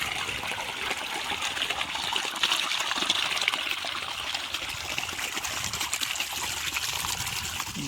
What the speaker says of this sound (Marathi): हे पहा पाणी चालू आहे शेतामध्ये